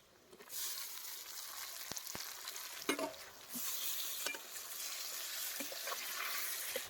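Green chillies and tomatoes dropped onto fried onions in a hot pan for egg curry, a bright sustained sizzle flaring up with sharp utensil knocks and scrapes as they are stirred, nobody talking.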